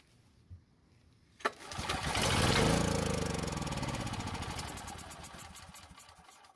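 A Powermate generator with a clogged carburetor fires on starter fluid after a couple of clicks, roaring loudly up close for a few seconds and then gradually losing power as it begins to die.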